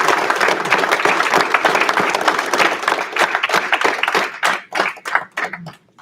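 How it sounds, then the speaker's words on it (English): Audience applauding at an evening promotional ceremony, a dense burst of clapping from a crowd that thins into scattered claps and fades out near the end. "If we could get one last round of applause for all of our collaborators."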